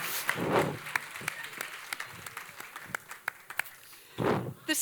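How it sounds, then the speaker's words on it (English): Scattered, uneven clapping from an audience at a travel retreat's opening night, thin and moderately quiet, with a couple of louder bursts of crowd noise and some voices. "let's give another round of applause"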